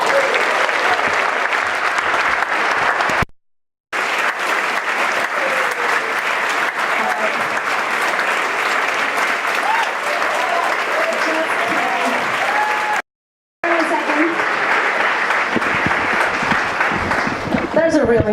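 An audience claps for Alexis Ohanian, co-founder of Reddit, at a talk: sustained, dense applause from a large crowd, loud and continuous, broken by two brief gaps.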